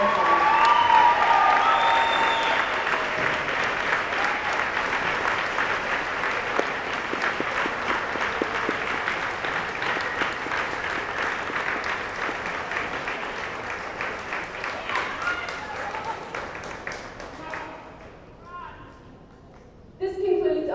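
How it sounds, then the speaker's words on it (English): Audience applause at a high school senior honors convocation, a sustained roar of clapping from a large crowd that swells early, fades gradually and dies out near the end before a brief burst returns. "a round of applause."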